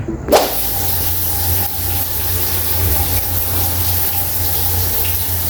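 Water runs steadily from a newly installed shower heater, a continuous hiss with a low pump-like hum, starting with a brief splash and staying loud throughout with no talk.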